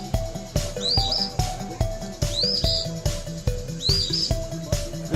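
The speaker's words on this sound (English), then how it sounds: "This is an eastern Pheobe." An eastern phoebe repeats a short rising call three times at steady intervals along a Muskoka paddling route, heard over a rhythmic low background sound.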